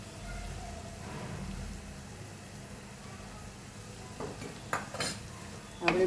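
A spoon stirs gram flour into radish leaf sabji in a pan, soft scraping and low sizzling at first, then a few sharper clinks of metal against the pan toward the end.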